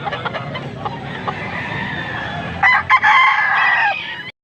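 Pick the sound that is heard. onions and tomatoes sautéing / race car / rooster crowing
rooster crowing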